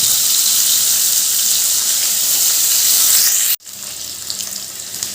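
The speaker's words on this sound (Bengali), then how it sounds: "এবার আলুগুলো ভালো করে লাল লাল করে ভাজবো" Potatoes and soaked chickpeas frying in a pan, a steady loud hiss of sizzling oil that breaks off abruptly and then resumes more softly, with no talk.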